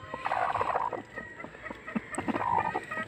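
A mother hen with her chicks keeps up close, steady clucking and throaty gobbling calls in a rapid, uneven rhythm, with no talking.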